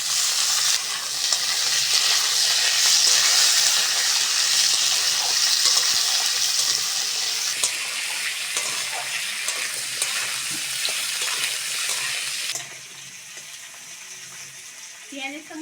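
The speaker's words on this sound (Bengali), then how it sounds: "পেঁয়াজের সঙ্গে আলুটা ভালো করে ভেজে নিয়েছি" Potatoes frying with onion in a hot pan give a loud, continuous sizzle close by, with stirring scrapes throughout. The hiss eases slightly toward the end.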